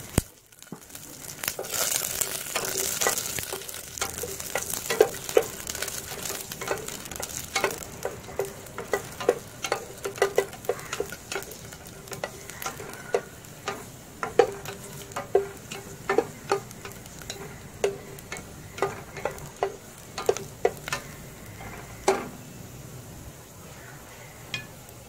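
Chopped garlic, about six or seven cloves, fries in a pan until golden. Faint, steady sizzling is broken by many small, irregular crackles and pops throughout.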